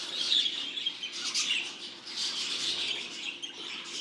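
Young show budgerigars chatter and chirp continuously in a breeder's aviary, a dense, bright twittering at moderate volume with no voices.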